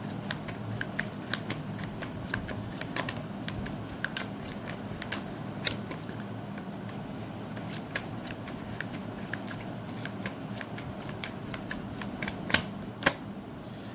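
Tarot cards being shuffled and drawn, a long run of quick, light riffling flicks and snaps at close range over a faint room hum.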